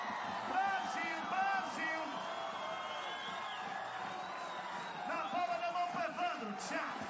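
A crowd at a beach volleyball gold medal final in Brasília cheers and whoops as a challenge is overruled in Brazil's favour, rising in bursts over steady arena noise with a commentator talking over it.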